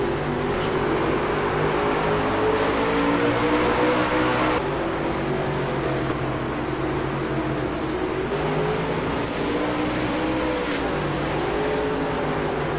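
Modified race cars lap the Eldora dirt track, their engines a continuous loud roar with rising and falling pitch as cars pass, layered and sustained throughout.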